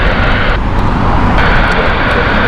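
A passenger jet at Heathrow Airport, heard as a loud, steady broadband engine roar that holds for the full stretch with no talk over it.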